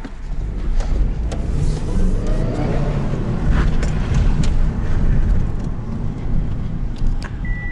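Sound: small manual-transmission car driving

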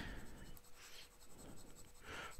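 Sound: fountain pen nib writing on paper

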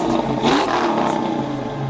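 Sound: 1993 Ford Mustang Foxbody 5.0 engine revving

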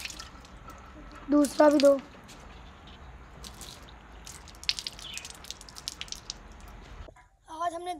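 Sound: water dripping while washing hands before eating

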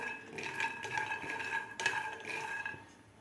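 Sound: roasting peanuts in a pan on medium gas

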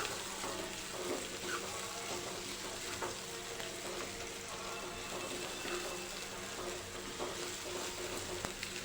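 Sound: chopped green onions being stirred and fried

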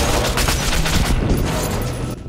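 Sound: gunfire from Metro 2033 Redux video game

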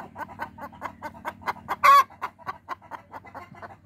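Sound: hens clucking while laying eggs

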